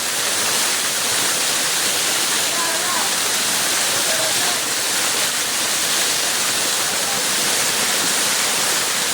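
Steady, loud rush of flowing water at the Ashokjhar forest waterfall, a dense continuous roar filling the whole clip, with faint voices partly buried beneath it.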